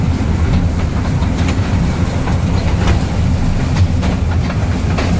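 Train wheels clatter steadily on the rails, a loud, continuous rumbling rush with rhythmic clicks heard up close from aboard a moving train.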